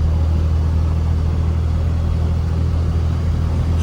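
A new truck heard from inside the cab while driving on the road: a steady low engine drone and road rumble, constant and even throughout with no talking.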